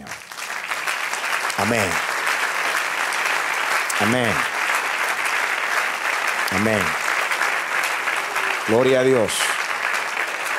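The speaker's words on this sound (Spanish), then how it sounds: "Dale un aplauso al Señor." A church congregation claps together in a sustained, loud wash of applause while a voice repeatedly calls out praise over it.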